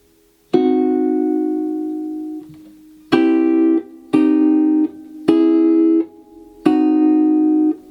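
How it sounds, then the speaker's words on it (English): Plucked guitar notes of a diminished triad ring out one at a time before sounding together, repeated several times with short pauses between strums. "And here's the sound of the diminished triad."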